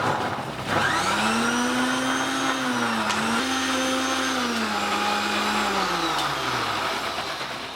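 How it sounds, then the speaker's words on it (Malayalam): An electric blender whirs steadily for several seconds, blending a tender coconut shake of coconut, seedless dates, sugar and water; the motor pitch rises and dips slightly as the mix churns, loud and close with no talking. "നമുക്കിനി ഇതൊന്ന് അടിച്ചെടുക്കാം."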